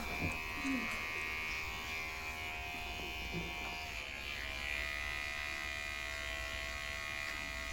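A zero-gap electric hair clipper buzzes steadily and close during a home haircut, its motor hum holding even throughout with slight shifts as it moves over the hair.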